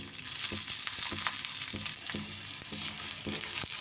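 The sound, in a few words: ingredients with cumin seeds frying in oil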